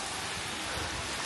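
Steady rain falls at Ba Na Hills in Da Nang, a dense, even hiss of drops filling the scene without any voices.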